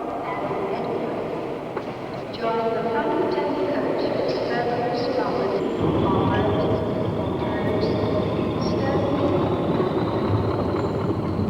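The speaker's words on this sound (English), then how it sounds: "Diesel hauled now, but still needing assistance up the bank to Camden." A diesel-hauled British Railways train rumbles past with a steady low drone and rhythmic clatter, accompanied by faint tonal whines, continuous throughout.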